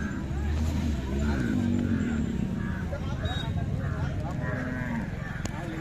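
Khillar cow lowing at a Sunday cattle and bullock market in Mudalgi, Raibag, Belagavi, Karnataka, a low drawn-out moo early on amid steady crowd chatter and market noise.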